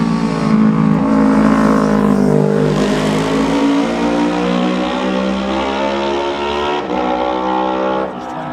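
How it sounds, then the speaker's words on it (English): A Kawasaki race motorcycle screams past at full throttle in a Manx Grand Prix newcomers race near Ballacraine, loud and close, with a high engine note that sweeps down in pitch as it passes and fades. "Next up will be number 24, Paul O'Rourke on his Kawasaki"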